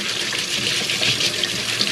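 A kitchen tap runs while something is washed under it, a loud, continuous splashing rush of water close by with small shifts in the spatter and no voices.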